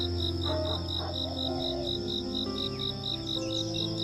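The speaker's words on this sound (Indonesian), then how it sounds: "Suara jangkrik sering dijadikan indikator suhu lingkungan" Crickets chirp at night in a steady, evenly pulsed trill, with a dense insect chorus droning underneath, moderately close and continuous.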